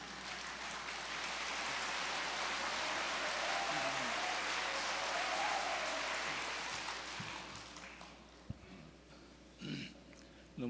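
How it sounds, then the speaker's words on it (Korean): Audience at a national elders' association lecture gives a pastor warm standing applause as he comes to the stage, a dense, steady clapping that swells for several seconds then fades, followed by a few stray claps and quiet room noise. "목사님 나오실 때 일어나셔서 뜨거운 박수로 환영 좀 해주시면 감사하겠습니다"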